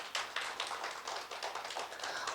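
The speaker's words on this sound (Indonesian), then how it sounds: "Beri tepuk tangan dulu untuk Tuhan" A church congregation claps together during a worship service, a quick run of fairly even, rhythmic hand claps, soft and somewhat distant, with no talking.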